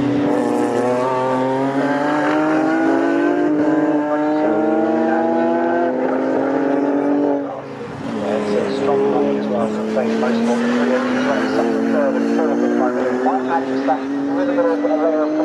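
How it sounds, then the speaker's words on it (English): Race cars at Snetterton circuit in a Britcar Trophy Championship race roar past one after another, engine notes climbing and sweeping loudly through close pass-bys, with a commentator's voice running over the top. "So that's going to be the cars of Jack Meekin and Max Coates"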